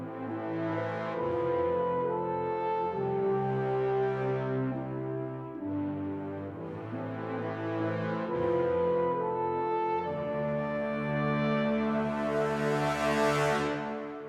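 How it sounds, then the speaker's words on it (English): Orchestral brass section sounding sustained, widely spread chords together in an uplifting cinematic piece, full and loud with slow swells between chord changes and no talking. "the brass all sounds like this together"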